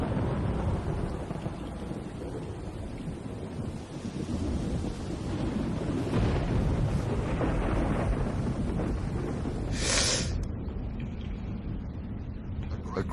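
A thunderstorm breaks a long desert drought, with a steady roar of heavy rain and wind, low rumbles of thunder, and a sharp hissing burst near the end. No voices.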